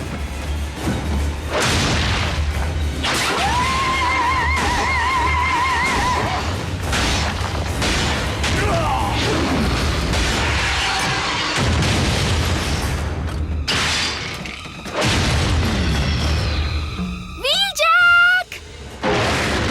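A grenade blast in the Transformers Prime cartoon, heard as heavy booming and crashing bursts amid a dense, continuous battle soundtrack with talk layered over it.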